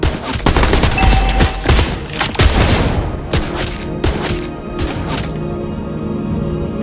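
Rapid bursts of gunfire from Clint in a video game, loud and close, with sharp cracks clustered in the first few seconds before thinning to scattered, fainter shots.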